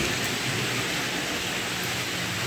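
Rain falls steadily on a rainy morning at low tide on the coast at Krabi, Thailand, a continuous broad hiss of drops that holds at an even, moderate level from start to finish.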